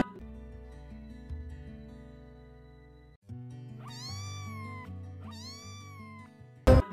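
A cat meows twice in clear, rising-then-falling cries over a steady tonal musical backing, followed by a brief sharp click at the very end.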